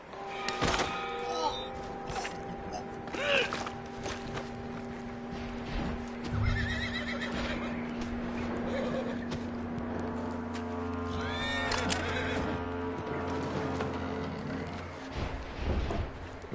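A horse in the video game Red Dead Redemption neighs several times and its hooves clop across the ground, close and clear, over layered game ambience with low hums and scattered thuds. A voice talks briefly.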